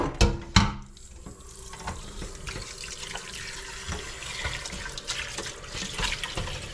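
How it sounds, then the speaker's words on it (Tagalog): Tap water running into a cooking pot for pork sinigang, a steady splashing stream after a couple of clanks as the pot is set down, close and moderately loud. "lagyan ko lang siya ng tubig."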